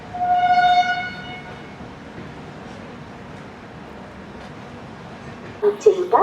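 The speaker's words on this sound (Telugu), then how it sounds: "ఇప్పుడు SMVP నుంచి హౌరా వెళ్ళే ట్రైన్ అయితే రేణిగుంట జంక్షన్కి అయితే వచ్చింది, బయలుదేరిపోయింది" The SMVB Bengaluru to Howrah AC superfast express departs Renigunta Junction with a long, loud horn blast, then a steady rolling rumble, and a brief burst of sound near the end.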